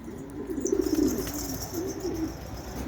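Pigeons coo softly nearby in a few low, rolling, throaty bursts that swell and fade over a quiet background.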